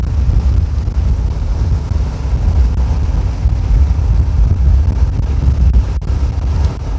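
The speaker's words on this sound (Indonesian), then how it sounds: "Bulan September ini memang angin sedikit kencang ya daripada bulan-bulan yang lain" Strong wind roars and buffets against the microphone outdoors at a road construction site, a loud continuous low rumble with gusty swells and no voices.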